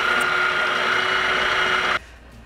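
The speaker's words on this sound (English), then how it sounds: "of course I'm going to use the mixer." An electric mixer whirs steadily through braided cinnamon bread dough made with whole egg and milk, a loud even motor drone that cuts off abruptly near the end.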